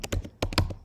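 A few quick keystrokes on a computer keyboard while entering a terminal command, tapped in two short bursts of clicks, close and clear with no talking.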